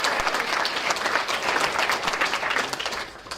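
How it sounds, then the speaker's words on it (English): An audience claps together for a few seconds, a dense and even burst of applause in a hall that swells and then tapers off. "a quick round of applause for Cecily"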